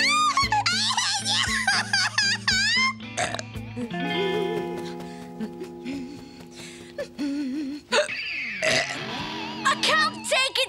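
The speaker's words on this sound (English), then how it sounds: "I've got to stop these hiccups!" A cartoon boy hiccupping, with repeated voiced hiccup yelps and gulps spaced between squeaky vocal sounds and comic music tones.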